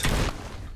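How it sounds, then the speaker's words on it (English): An explosion in the video game Fallout New Vegas gives a loud, short burst with a deep thump. The boom fades into a lower rumbling tail that lasts under a second. "That was an explosion."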